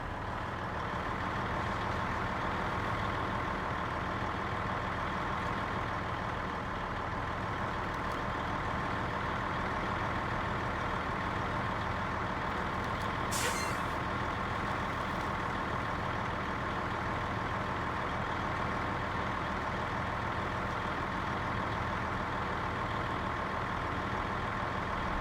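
A big truck on very large tires grinding through deep terrain, its engine a constant heavy low drone that holds steady throughout, with a brief higher whine partway through and no talk.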